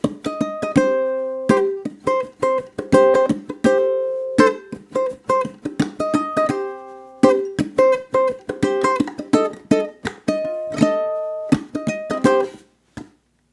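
Ukulele plays over a full band backing track, bright plucked notes and strummed chords in a steady rhythm, close and clear, ending in a brief silence.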